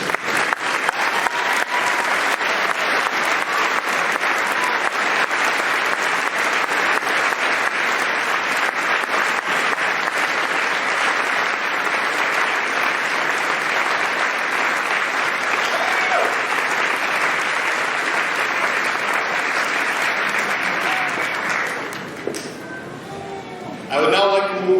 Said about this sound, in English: Would all parents and guardians of tonight's graduates please stand and receive a well-deserved